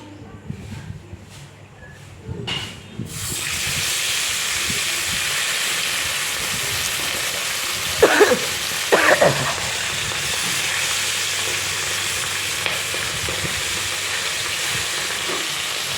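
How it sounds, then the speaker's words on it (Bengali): Parshe fish frying in hot oil in a kadai, a steady loud sizzle and hiss that swells after the fish go in, with a few faint clinks and brief voice sounds early on. "তারপরে দেখো আবার কটা মাছ কড়াইয়ে ছেড়ে দিলাম"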